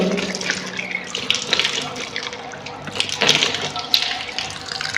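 Water splashes and runs from a tap in uneven bursts during Islamic ablution (wudu), close and fairly loud, with a voice speaking intermittently over it.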